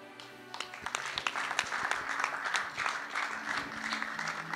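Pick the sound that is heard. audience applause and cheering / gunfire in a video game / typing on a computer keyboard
audience applause and cheering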